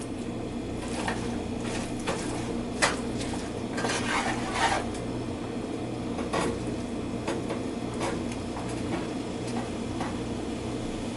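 Kroppkakor, Swedish potato dumplings, frying in a pan on a stovetop burner, giving a low steady sizzle under scattered clinks and scrapes of a utensil against cookware.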